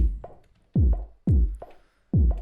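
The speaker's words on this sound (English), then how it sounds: "I wanted to add in like a drum break that's low passed" A low-pass filtered drum break thumps along with deep, muffled kicks and dull snare hits in a loose, syncopated rhythm, the highs rolled off so it sounds dark and distant, with no voices.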